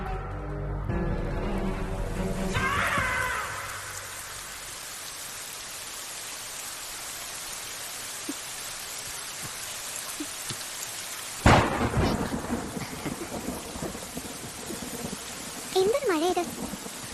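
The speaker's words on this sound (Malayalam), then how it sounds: "എന്തൊരു മഴ ഇത്." Heavy rain pours steadily throughout, with a loud thunderclap cracking partway through and rumbling afterward. A voice speaks near the end over the downpour.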